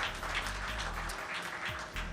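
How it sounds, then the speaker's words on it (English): Steady applause fills a press-conference room in Tokyo after a fighter steps away from the microphone, a continuous even wash of clapping with no voices. "Let's give him a round of applause."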